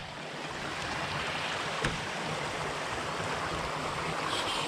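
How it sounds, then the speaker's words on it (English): A waterfall rushes in a steady, dense roar, loud and close, with a continuous broadband wash of falling water that barely varies in level throughout. "this is our waterfall. It's kind of loud"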